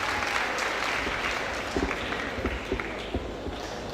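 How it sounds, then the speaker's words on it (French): Applause from the audience at a graduation ceremony honouring a prize-winning student, a dense, moderately loud wash of clapping with a few sharper individual claps standing out. "Je vous demande d'applaudir Louis Jérémy, s'il vous plaît"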